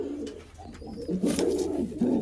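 A pigeon coos several times in low, rolling phrases, close by, with soft rustling between the calls and no talking.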